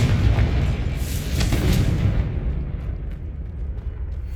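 A Confringo blasting spell goes off in Hogwarts Legacy, a loud booming explosion with a crackling burst that rolls into a fading rumble over a few seconds.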